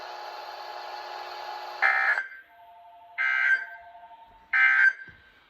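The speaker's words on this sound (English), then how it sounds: "This is a test of the National Weather Service NOAA Weather Radio Warning Alarm System." NOAA Weather Radio warning alarm test tone: a loud, steady alarm tone holds for about two seconds, then three short bright bursts follow at even intervals, with a fainter tone lingering between them.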